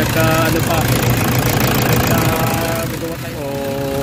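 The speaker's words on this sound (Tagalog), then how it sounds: "So far okay na yung andar ng makina, panalo." Toyota Fortuner engine running steadily at idle after an electrical wiring repair, with a continuous low rumble and some knocking texture throughout, close by, while someone talks over it.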